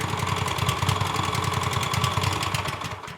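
A Pramac S2800 portable generator with a Subaru engine runs close by in a steady, even drone with a fast rhythmic pulse throughout, and no voices.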